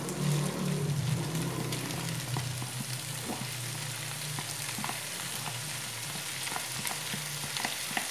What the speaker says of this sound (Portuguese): Aqui a gente só vai dar mesmo aquela fritadinha, né? Aquela refogadinha no presunto.